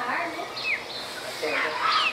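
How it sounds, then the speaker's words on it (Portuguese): A black bird sings high in the trees on a farm in Santa Elvira, Mato Grosso, sending short whistled phrases and chirps at moderate distance, with other birdsong mixed in around it. "Em cima tá cantando o pássaro preto."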